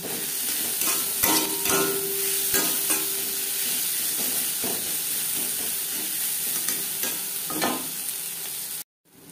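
Sliced onions fry in hot oil in a pan until reddish for a ridge gourd stir-fry, a loud, steady sizzle broken by scraping stirs and a few clinks before stopping abruptly.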